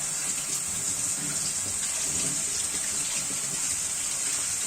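Raisins, already soaked in boiling water, are rinsed under a steady stream of running tap water, a continuous hissing splash close by with no pauses.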